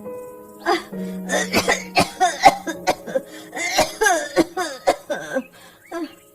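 Several harsh coughs break out in quick succession, tangled with strained vocal sounds from the same person.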